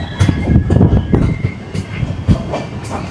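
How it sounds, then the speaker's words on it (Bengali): Puri Gandhidham weekly SF Express passenger train running near Balugaon, a loud steady rumble of wheels and carriages with rhythmic clickety-clack over the rails, heard from inside the moving train. "ট্রেন ছাড়লো বালুগাঁও থেকে"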